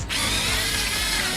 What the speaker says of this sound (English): So I get a bigger drill here, the next size.